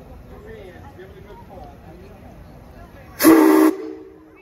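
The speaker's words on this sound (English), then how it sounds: "Get to hear that whistle from the outside." A small 0-4-0 steam locomotive's whistle, heard from outside at a train show, gives one loud, steady blast of about half a second that rises abruptly over crowd chatter and then drops away.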